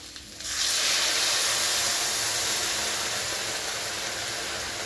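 Hot water poured into a pan for rice flour upma, a loud steady hissing rush that starts abruptly after a brief quieter moment and holds nearly constant to the end, with no talking.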